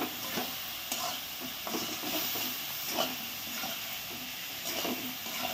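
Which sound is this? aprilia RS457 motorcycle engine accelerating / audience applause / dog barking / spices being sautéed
spices being sautéed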